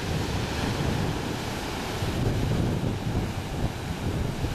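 Ocean surf along the Sonoma County coast rolls and washes in a continuous broadband roar, mixed with gusty wind buffeting the microphone, and no one speaks.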